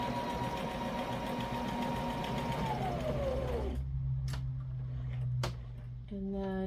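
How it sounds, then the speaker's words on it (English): A sewing machine runs a steady whirring back stitch while sewing a DIY diaper cover, then stops, leaving a few soft clicks and handling sounds. "I'm just going to back stitch just to make sure that's secure."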